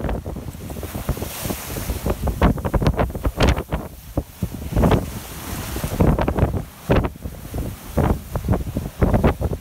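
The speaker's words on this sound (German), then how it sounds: "lässt Mola Mola schnell durch die aufgewühlte See rauschen" The sailboat Mola Mola surges through rough, churned-up Atlantic seas, with repeated whooshing wave bursts against the hull and heavy wind buffeting the microphone, loud and irregular.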